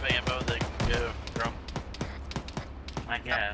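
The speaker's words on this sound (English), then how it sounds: "There's shots coming over here northwest." Rapid bursts of gunfire in the military video game ArmA 3, a string of sharp cracks scattered across the moment, some near and some farther off, mixed under ongoing radio-style chatter between players.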